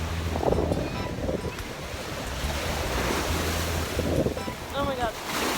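Surf breaking on a beach on the Fourth of July, a steady wash of waves with wind noise rumbling against the microphone and a brief faint voice near the end.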